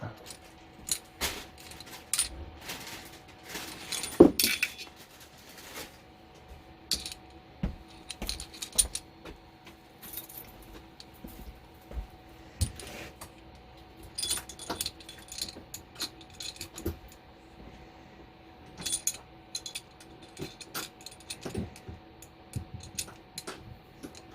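A barrel bushing is fitted onto a Smith & Wesson 1911 pistol during cleaning, giving quiet scattered metallic clicks and small clinks, close and faint, with no talk over them.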